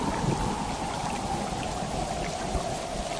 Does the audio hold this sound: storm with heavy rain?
yes